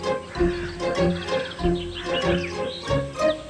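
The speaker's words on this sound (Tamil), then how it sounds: "காக்கைங்களோட தொந்தரவு தாங்க முடியல." Cartoon crows calling in a repeated series of harsh caws and chirps, loud and close, with several birds overlapping in an uneven rhythm.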